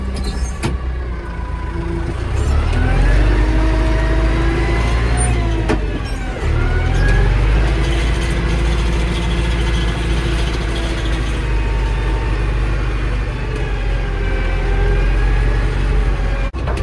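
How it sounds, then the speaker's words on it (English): A loud tractor engine rumbles steadily and close, with a brief mechanical clunk partway through as it is shifted out of four-wheel drive, and the motor revving up again. "Tractor does not like to come out of four-wheel drive"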